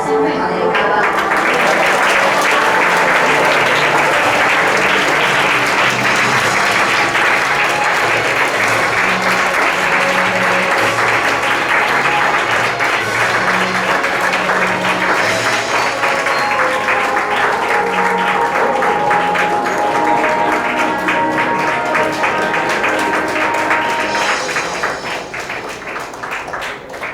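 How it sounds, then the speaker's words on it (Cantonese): Guests are welcomed with sustained, loud applause at a hall's formal high table dinner, a thick wash of clapping that holds steady for nearly half a minute before thinning at the end. "請各位以熱烈嘅掌聲歡迎我哋嘅嘉賓"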